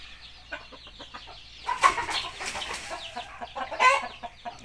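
A promising young Thai fighting rooster named Yahan clucks in short, repeated bursts close by, rising into louder, sharper squawks twice before settling back to softer clucking.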